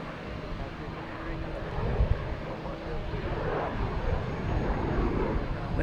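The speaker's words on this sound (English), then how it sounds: "I think that's the jet sound you hear, is this little guy." A small Cessna propeller plane drones steadily overhead at Logan Airport, a broad, continuous engine hum mixed with wind noise, with people talking over it.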